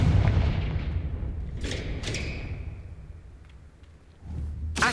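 A Confringo fire-blast spell in Hogwarts Legacy detonates with a heavy low boom that rumbles and fades, followed by a few sharp cracks and another thump near the end.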